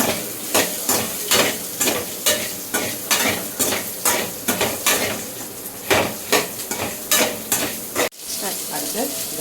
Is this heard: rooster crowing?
no